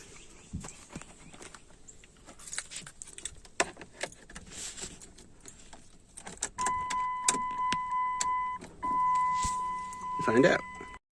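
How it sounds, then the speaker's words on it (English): A Dodge Grand Caravan being started: keys jangle, then steady dashboard chime tones sound before the engine cranks and catches near the end, heard up close inside the vehicle. "Turn on the vehicle."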